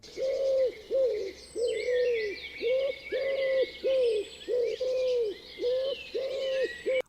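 Repeated soft coos pulse in a steady rhythm while small birds chirp and twitter busily above them, close by and fairly quiet.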